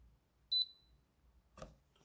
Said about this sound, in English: the buzzer will beep once to indicate the start of Wi-Fi resetting.